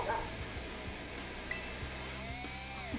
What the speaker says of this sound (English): That dog sound. That's great.